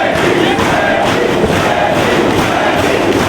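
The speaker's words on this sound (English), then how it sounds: "this crowd's really getting to him by chanting for Spanky" Wrestling crowd at a Ring of Honor match chanting for Spanky, a loud, dense roar of many voices with rhythmic swells and occasional thuds from the ring.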